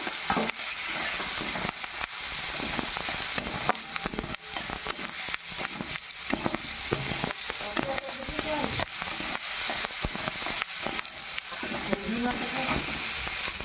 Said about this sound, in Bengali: পেঁয়াজ কুচিগুলো দিয়ে দিলাম, এগুলো আমি ভেজে নেব।